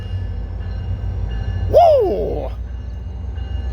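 Metrolink passenger train number 900 passes with a steady rumble, and a horn-like rising and falling wail sounds briefly midway while a voice cheers.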